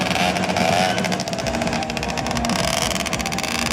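An automatic 50cc moped rides through a motorcycle trial competition, its small engine buzzing steadily and fairly loud with a wavering pitch, continuous throughout with no talk over it.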